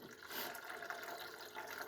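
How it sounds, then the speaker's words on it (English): Apple cider vinegar is poured slowly into the fuel tank of a Kawasaki KZ1000P motorcycle. The liquid makes a faint, continuous trickle and splash for under two seconds. "I'll just slowly pour this in until she fills right up."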